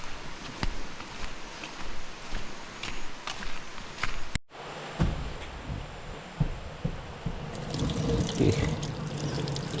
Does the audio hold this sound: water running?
yes